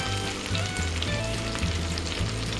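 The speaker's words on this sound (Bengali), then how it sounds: "এবার খুব ভালো করে মশলাটা ভেজে নেব" Ground spice masala of turmeric, Kashmiri chilli powder, green chilli and a little sugar sizzles steadily in hot oil for a Bengali doi chingri prawn curry, a continuous close frying hiss with a low bubbling undertone.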